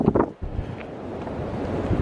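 Strong wind buffets the microphone on an outdoor trail in Waterloo, Ontario, in a continuous rumbling roar, with gusty swells and no voices.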